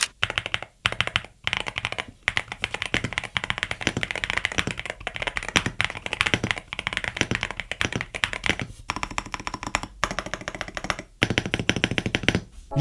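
An Akko MU01 mechanical gaming keyboard with an ANSI QWERTY layout is typed on steadily, giving dense, crisp clacking keystrokes close up with brief pauses between bursts.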